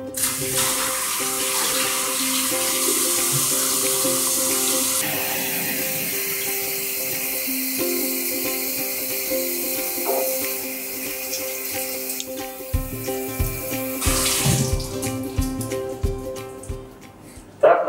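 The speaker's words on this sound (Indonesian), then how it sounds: "kita mencuci tangan dengan air mengalir dan juga" Tap water runs steadily into a sink as hands are washed with soap before a clinical skin examination, a continuous loud splashing rush that shifts in tone as the hands move under the stream, with no talk.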